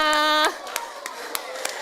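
A church congregation at a Sunday service claps after a worship song, a sustained sung note cutting off into scattered sharp hand claps.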